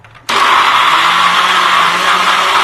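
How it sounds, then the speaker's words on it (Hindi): An electric mixer grinder kicks on abruptly and whirs loudly and steadily, grinding masala spices for stuffed tinda. "अभी मैं इसको पीस लूंगी, मसाला बना लूंगी बारीक।"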